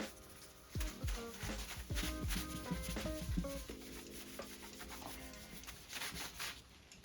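Cloth rubs and wipes across a car body panel being cleaned before primer, a close, uneven scrubbing with repeated strokes and light knocks, no voices.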